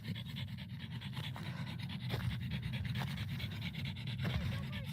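A dog pants heavily and rapidly while playing outdoors, close and continuous, with no talking.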